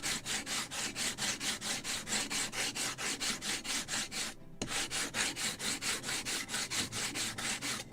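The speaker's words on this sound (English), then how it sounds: "like this, turning my yard and sanding." Sandpaper rubbed back and forth along a wooden yard for a 1776 gunboat Philadelphia model kit, in a steady rapid rhythm of close, loud strokes with one short pause midway.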